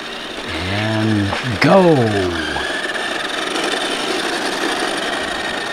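A MaxTech MAXX'd Out RC car drives off with a rising electric motor whine that sweeps up and down in pitch, near and fairly loud, with a brief spoken cue at the start and steady background hiss.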